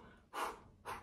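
Two deep, slow breaths taken to calm down, each a soft, airy rush of air close to the listener, separated by a brief pause, quiet and with no speech.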